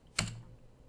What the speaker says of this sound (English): I should be hitting the little key here on the keyboard a little quieter, shouldn't I?